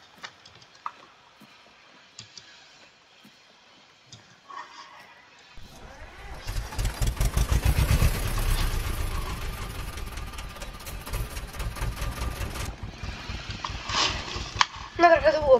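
A tractor engine in Farming Simulator 19 cranks with rapid clattering bursts, then catches and runs with a rough, loud rumble before settling.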